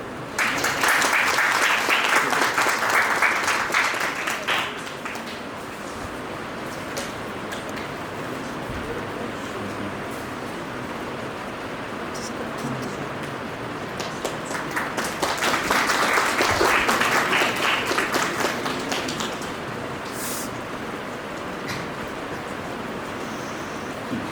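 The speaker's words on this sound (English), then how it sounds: "Let's give a warm round of applause" Applause from an audience at a law society orientation, swelling in two loud bursts near the start and middle with a steady lower patter in between.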